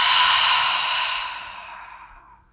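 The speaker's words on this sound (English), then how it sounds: "a full breath out" A single full, sighing exhale of breath at close range, starting strong and trailing off gradually over about two seconds during a gentle longevity exercise session.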